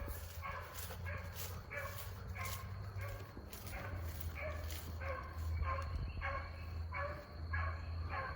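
Beagles chasing a rabbit outdoors bay and bark in a steady, repeated rhythm, several dogs at moderate distance, with a voice speaking at times beneath the pack.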